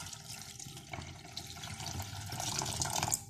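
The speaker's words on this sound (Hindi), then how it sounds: "अभी इसमें इतना पानी डालें जितना ये आलू भी गल जाए," Water poured into a pot of potato and egg curry (anday aloo ka salan), a steady, close splashing stream that builds louder toward the end, heard alone without talk.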